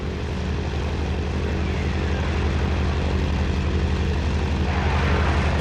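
A T-28 propeller aircraft flies during the Laos war, its engine drone loud and continuous with a steady low throb that swells slightly toward the end.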